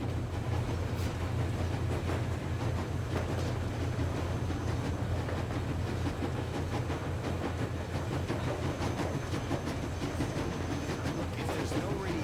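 In the video game Metro Exodus, a train rumbles steadily along the rails with a continuous low roar and faint rhythmic clacking throughout, heard at a moderate, unbroken level.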